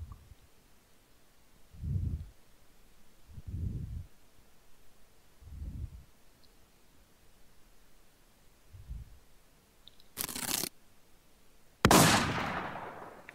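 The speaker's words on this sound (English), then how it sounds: "Guy on the sixth story with a fucking sniper." Sniper rifle shots in the survival shooter Infestation: Survivor Stories, several muffled low booms spaced a couple of seconds apart, followed by two sharper, louder cracks near the end.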